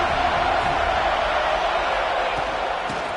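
Dense, steady roar of a football stadium crowd at an FSU vs Bama game, loud and sustained throughout with no pauses.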